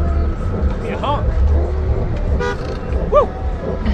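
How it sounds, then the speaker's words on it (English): A few short car horn toots, one near the middle and another shortly after, over a low traffic rumble and passing vehicles nearby. "Give me a honk."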